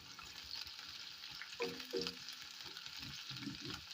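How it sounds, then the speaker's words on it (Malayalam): Chopped shallots sauté in a pan for an anchovy fish curry, giving a soft, steady sizzle with a few faint stirring clicks, quiet and up close. "ചെറുതായിട്ടൊന്ന് വഴറ്റിയെടുത്താൽ മതി, നല്ല വാടൊന്നും വേണ്ട."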